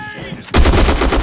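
A grenade goes off in the online shooter Black Squad, a sudden loud booming blast with a rumbling, crackling tail that fills the rest of the short moment.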